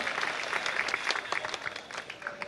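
An indoor audience at a foundation event bursts into brisk, dense clapping, loud and close for a couple of seconds before thinning out.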